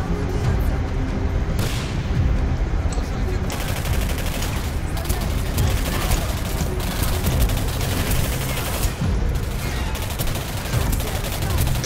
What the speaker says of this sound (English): I'm gonna take out my machine gun.